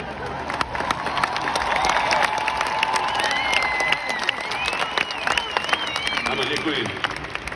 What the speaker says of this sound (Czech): Děkuji, že tleskáte